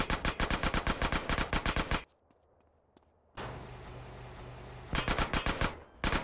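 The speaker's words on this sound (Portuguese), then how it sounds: "você fica atirando no carro até ele pegar fogo" Rapid gunfire in GTA San Andreas aimed at a car, loud bursts of evenly spaced shots, a pause with a low rumble, then another burst of shots.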